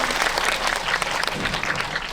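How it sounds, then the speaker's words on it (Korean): Audience applause fills a cinema hall at Lotte Cinema World Tower during a stage greeting for the film Decision to Leave, a steady dense clapping crowd, fairly close, sustained for about two seconds with little talk. "박수 한번 주세요"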